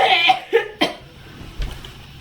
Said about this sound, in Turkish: Ufak bir öksürük.